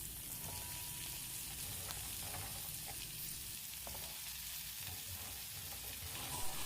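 Chopped long beans tipped into a hot pan for a Kerala mezhukkupuratti give off a steady, even sizzle and fry, a soft rain-like crackle with light stirring scrapes, close and continuous with no talking.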